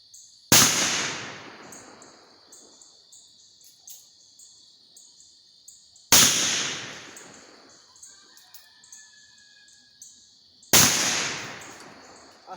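Three loud black-powder shots from a Pietta 1851 Navy cap and ball revolver, spaced several seconds apart outdoors, each a sharp crack trailing into a long rolling echo, with insects chirping steadily between them.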